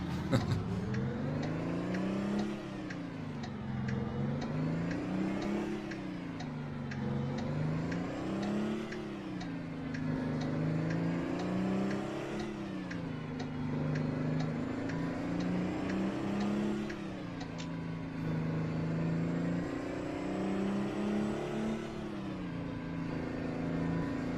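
An old Mack truck engine in American Truck Simulator labours up through the gears, each slow rising whine climbing and dropping again in repeated cycles, droning and steady with no talk over it.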